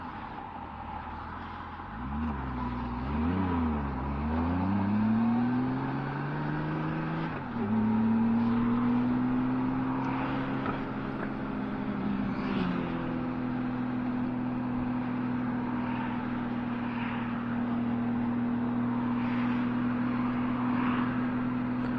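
Motorcycle ride captured by an Innovv H5 4K helmet camera with the visor closed: steady engine drone rising through gear changes in the first seconds, then settling into a constant cruising hum with wind rush, continuous and fairly loud.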